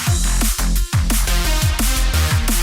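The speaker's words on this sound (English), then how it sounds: "we make music that sounds like this" Electronic music by a duo plays loud and alone, punchy kick drums and pitch-dropping bass hits pulsing in a steady beat under bright synth chords.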